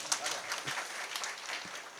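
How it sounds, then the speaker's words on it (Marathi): An audience at a Marathi comic kirtan claps together in a brief, steady patter of many hands, fairly close and moderately loud, with a voice faintly heard beneath. "एकदा गायक वादनासाठी टाळ्या वाजव महाराज"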